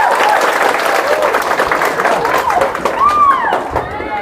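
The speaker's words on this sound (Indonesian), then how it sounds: "Mari kita tepuk tangan." An audience at a high school student council election debate applauds, with steady, loud clapping and a few scattered cheers sustained throughout.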